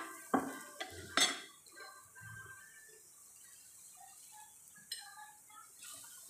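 A spinach paratha being flipped on a pan: a few sharp utensil clanks and scrapes early on, then faint soft sizzling and occasional light taps.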